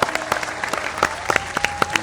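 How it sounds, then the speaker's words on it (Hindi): A small group of people clap, with distinct sharp claps in an uneven rhythm and a faint voice or tone running underneath. "तालियां मारो सारे"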